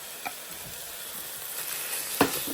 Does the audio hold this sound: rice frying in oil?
yes